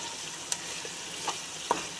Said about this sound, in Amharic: መጥበስ አለባችሁ ማለት ነው።